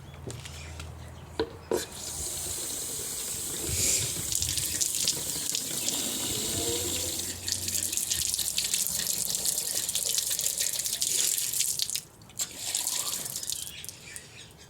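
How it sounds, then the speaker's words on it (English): Tap water runs steadily into water bottles inside a van, a continuous close splashing stream with brief pauses and changes in pitch as the bottles fill. "Okay, so I've filled up the water bottles."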